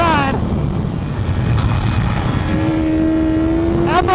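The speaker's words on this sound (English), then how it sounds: "this bike is fun to ride" A 2017 Yamaha motorcycle is ridden at speed, its engine a loud continuous drone with wind rush, the pitch shifting as the revs change.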